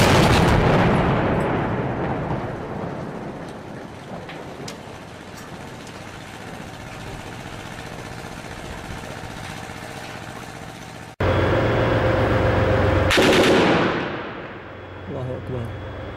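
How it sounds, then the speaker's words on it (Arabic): Rocket shelling on the city of Darayya, Syria: a heavy, continuous roar with blasts, including a sudden loud jolt near the end, while voices shout over it. "قصف صاروخي على المدينة"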